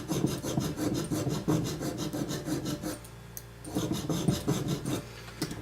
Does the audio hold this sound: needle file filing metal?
yes